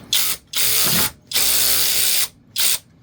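A SeeSii cordless power ratchet wrench spins a stuck nut loose in loud, whirring bursts, three long runs and a short one separated by brief pauses, close up and with no voices.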